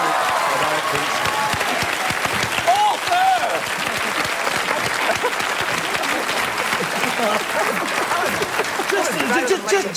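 A studio audience at a comedy panel show claps in sustained, dense applause that fills the whole stretch at a steady loud level, with voices talking and calling out over it.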